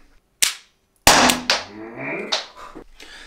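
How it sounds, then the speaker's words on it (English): Two sharp, loud cracks from an Umarex HDR 50 caliber self-defence revolver fired point-blank, the first short and clipped, the second about half a second later and followed by a sustained, rising voiced cry and ringing noise. "today we're gonna test this gun again, and once again my beautiful wife will shoot me in my back"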